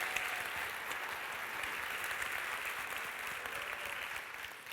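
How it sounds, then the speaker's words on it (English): Sustained applause from an audience at a women-focused business event in honor of The Brand Is Female team, a dense, even wash of many hands clapping that holds steady and fades slightly at the very end. "on va leur donner une main d'applaudissement"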